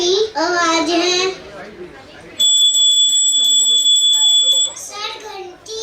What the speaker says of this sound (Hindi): सर, घंटी की।